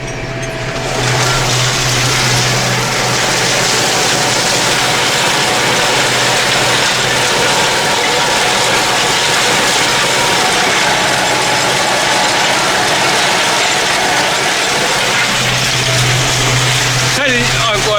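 A tractor pulling a hay tedder spreads and turns cut grass for hay, its steady engine drone and rattling tines running loud and continuous, with a low hum rising at the start and end.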